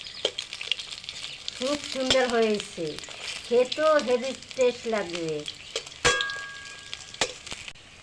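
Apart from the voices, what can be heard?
soybean fritters frying in oil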